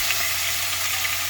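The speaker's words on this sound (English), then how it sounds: "I'm just going to fry the chicken until it's fully" Chicken pieces fry in a pan, giving a steady close sizzle and crackle that holds evenly for the whole short stretch, with no talk.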